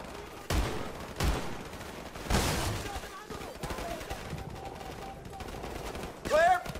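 Automatic gunfire in Call of Duty 4 Modern Warfare Remastered, with a few distinct bursts and scattered shots over ongoing combat noise and a sharper crack near the end.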